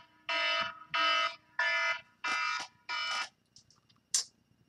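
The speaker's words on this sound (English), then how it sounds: "Timer's going off." A timer alarm beeps indoors in five evenly spaced, sustained electronic tones, each about half a second long, fairly quiet, followed by a few short faint chirps. No speech.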